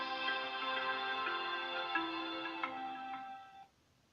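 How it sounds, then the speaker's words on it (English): Chiming smartphone notification tones on an inexpensive Bluboo Maya Max 6-inch Android phone, a bright layered melodic jingle ringing steadily for several seconds before cutting off, heard near and alone. "my mother's getting notifications."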